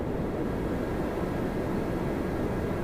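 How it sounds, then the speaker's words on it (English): A jet aircraft on afterburner at Toronto Pearson airport gives off a continuous, loud, broadband roar that holds steady throughout, with no voices over it. "Afterburner, great to hear."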